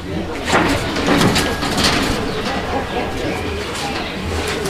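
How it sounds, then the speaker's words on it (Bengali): A pigeon offered for sale as a calling bird coos in low, rolling phrases nearby, heard under and between people talking, along with some handling noise. "এই যে দর্শক কবুতরটার ডাক দেখেন আপনারা, ঠিক আছে, খুব সুন্দর ডাকে।"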